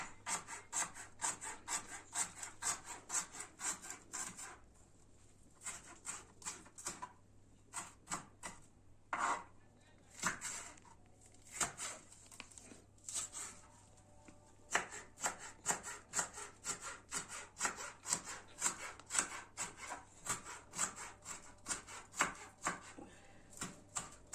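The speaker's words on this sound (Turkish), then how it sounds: "Şimdi yeşil biberimizi doğruyoruz" A knife chops green pepper steadily on a wooden board, quick rhythmic knocks in runs with brief pauses, close and clear, no talking.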